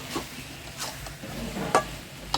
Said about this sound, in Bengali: মাংসটা ভালো করে কষিয়ে